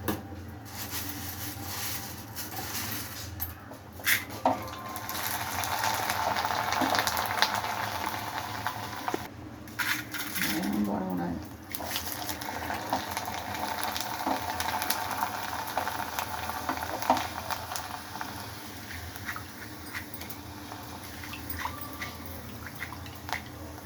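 Corn chips frying in hot oil, a loud continuous bubbling sizzle close up that swells and eases as batches cook, with brief clatters from stirring.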